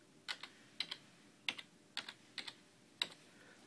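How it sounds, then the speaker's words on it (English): Keys tapped on a computer keyboard in short clustered bursts, about six quick pairs of clicks spaced evenly at close range in a quiet room. "Okay, so you just type in Spanish"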